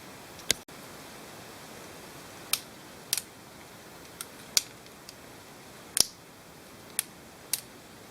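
A Spyderco BaliYo butterfly pen is flipped, producing about ten sharp, isolated metallic clicks spaced irregularly over a quiet background, close and crisp.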